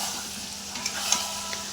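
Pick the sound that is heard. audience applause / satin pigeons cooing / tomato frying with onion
tomato frying with onion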